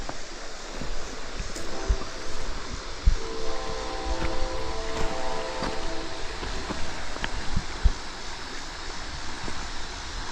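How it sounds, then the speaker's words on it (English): A train passes far off near a river wilderness on the West Virginia and Kentucky border, its horn sounding in faint drawn-out blasts over steady rushing water and distant rumbling. "Here's the train off in the distance."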